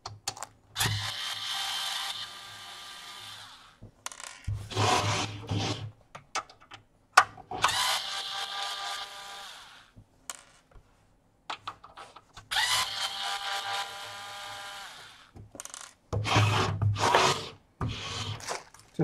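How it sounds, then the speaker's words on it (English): Case screws being removed from a Hikvision DS-7208HUHI Turbo 3 DVR, with bursts of scraping, ratcheting metal turning separated by short pauses, close and fairly loud, with a sharp click between them. "Now let me just take off the case screws."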